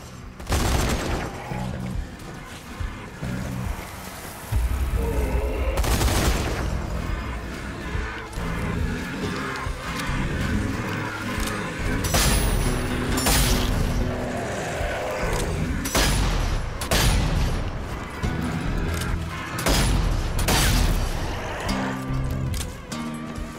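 Rapid machine gun bursts from the zombie shooter Zombie Army 4, loud and near, fire continuing almost nonstop with heavy booming impacts and dense battle noise, no talk over it.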